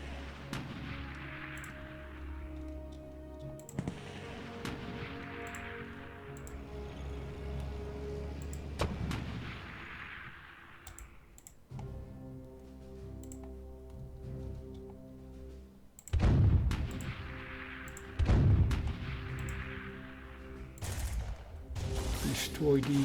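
Booming artillery and gunfire in the World War II strategy game Klotzen Panzer Battles, with heavy rumbling blasts and reverberating impacts at irregular intervals, a few sharper bangs near the end, and someone talking over it at times.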